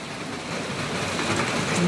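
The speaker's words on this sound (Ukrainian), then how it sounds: "Дивіться, злива." A heavy summer rain shower pours down steadily over a garden, a dense, continuous hiss that swells slightly, with no one speaking.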